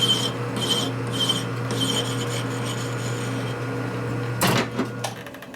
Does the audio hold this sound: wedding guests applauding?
no